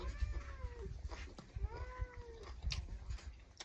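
A cat meows twice, drawn-out and plaintive, fairly faint against low rumbling background noise.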